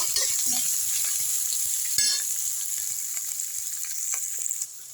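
Steady, dense sizzling of onions sautéing in hot oil, close and continuous, with a brief scrape of stirring partway through.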